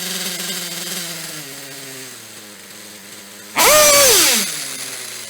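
A nitro RC engine idles after low-speed needle tuning, holding a steady buzzing idle that slowly drops in pitch, then a short, loud rev flares up and falls back to idle.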